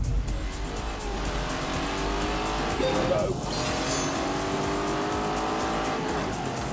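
A race car in The Grand Tour video game roars at full throttle with a continuous engine drone and squealing tyres, loud and close throughout, while a voice talks over it.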